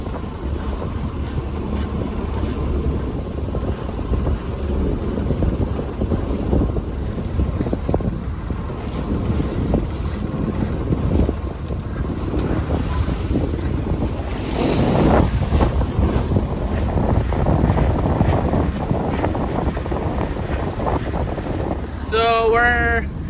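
A sailboat motors under engine near the Sambro Lighthouse on a passage toward Lunenburg, with a steady low engine drone mixed into constant wind buffeting and washing water, ending in a brief high squeal.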